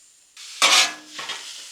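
Ground chuck and colored onions hit a hot Blackstone griddle with a loud burst of sizzling, followed by a second scrape-and-sizzle flare as they're stirred, close and with no talking.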